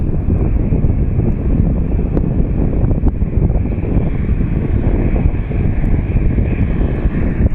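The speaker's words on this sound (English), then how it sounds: "There's two planes that just landed." Jet airliners landing at Phoenix Sky Harbor airport send a loud, steady engine roar across the field, heavily buffeted by gusting wind noise on the microphone, with no voices.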